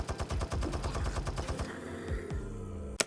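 Rapid bursts of Uzi fire in the Unturned console game trailer, a fast regular stream of sharp shots for about a second and a half, then a few scattered reports and a final loud crack.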